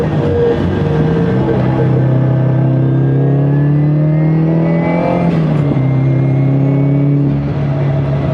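A Subaru WRX fitted with a solid rear differential carrier accelerates hard on the road, its engine note climbing steadily and continuously from inside the car, loud and close throughout with no talking.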